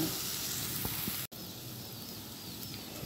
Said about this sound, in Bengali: সবজিগুলো আমার সুন্দর ভাজা হয়ে গেছে।